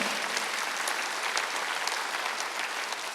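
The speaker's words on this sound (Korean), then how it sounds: "빨리 박수해" Steady applause rises from a congregation during a Sunday worship service, a continuous, even patter of many hands clapping at moderate distance with no voices over it.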